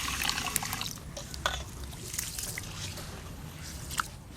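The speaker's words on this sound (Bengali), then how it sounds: "এবার চাল আর মুসুরির ডাল একসঙ্গে ধুয়ে নেব।" Gobindobhog rice and red lentils being washed together in water, with soft sloshing and trickling splashes and a few sharper clinks, fairly quiet and close, with faint voices in the background.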